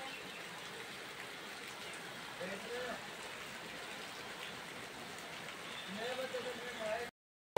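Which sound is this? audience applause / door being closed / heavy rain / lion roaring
heavy rain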